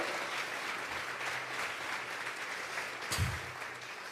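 Church congregation claps together as an offering of praise, a sustained dense patter of many hands at moderate volume, with a brief low thump near the end.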